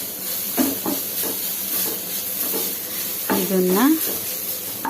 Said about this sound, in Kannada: ಒಂಬಣ್ಣ ಬರೋವರೆಗೆ ಈ ಥರ ಹುರಿದ್ಬಿಟ್ಟು